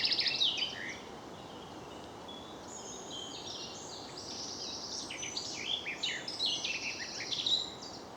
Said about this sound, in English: Some form of warbler singing over there.